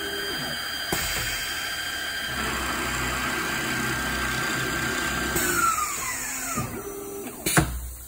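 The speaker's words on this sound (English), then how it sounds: "it's gonna drill this first hole at 9 degrees to the left and 14 degrees to the back." Power drill boring an angled hole into a chair, a steady whining motor drone that rises, shifts pitch and winds down near the end with a short thump, close and without voices.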